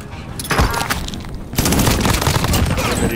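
Gunfire in a Call of Duty battle, with dense overlapping automatic bursts that start sparse, then swell into a loud, continuous fusillade from several weapons.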